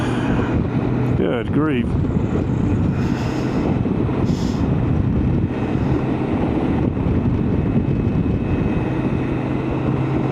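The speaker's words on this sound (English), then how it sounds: "the wind's already blowing me sideways" Wind buffeting a rider on a BMW K1600 GTL motorcycle in New Mexico, a constant heavy roaring rush alongside engine drone, with a brief spoken exclamation early on.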